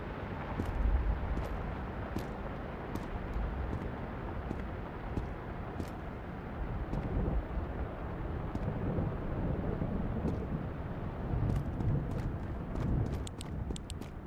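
The engine of a BTR armored vehicle in Escape from Tarkov rumbles low and steady from outside, muffled and somewhat distant. Scattered sharp clicks and taps sit over it, and no one speaks.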